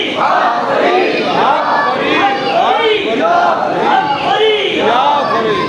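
A large crowd at an annual Mawlid religious gathering roars religious slogans in unison. The chanting is loud, continuous and rising and falling in waves of many voices.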